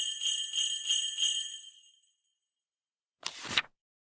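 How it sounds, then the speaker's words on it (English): Jingle bells ring in a few rhythmic shakes, bright and tinkling, then fade out, followed by a short separate rattle after a pause. "Jingle bells."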